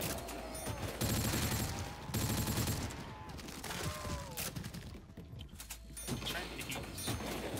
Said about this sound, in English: What I like is this ASM-1 from Advanced Warfare that looks like a Tommy gun.